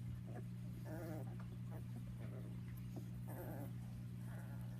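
A big young male puppy with a blocky head whimpers faintly in a few short, high cries over a steady low background hum.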